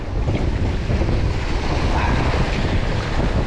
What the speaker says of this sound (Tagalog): Walang lakas kasi ng hangin ngayon